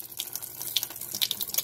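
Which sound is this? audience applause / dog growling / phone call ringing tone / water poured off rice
water poured off rice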